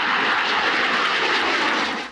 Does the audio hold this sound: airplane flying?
yes